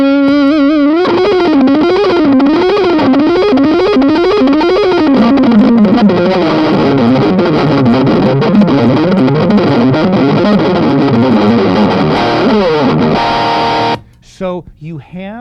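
Overdriven electric guitar through a Sawtooth 20-watt tube amplifier, loud and continuous, with fast shred-style runs and sweeping melodic lines that fill the clip before cutting off into a few short notes.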